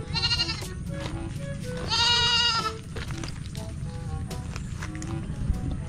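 A goat bleats several times, close and loud, the calls separated by short pauses over a low background hum.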